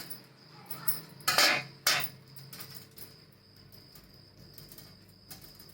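Two crisp knife strokes slice through capsicum (bell pepper) into rings on a board, close and sharp, followed by faint quieter cuts against a steady background hum and a high insect-like whine.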